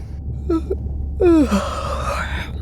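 A short breath, then a long drawn-out yawn from a character in the video game Beyond Blue, with a rising and falling voiced tone, fairly close and clear.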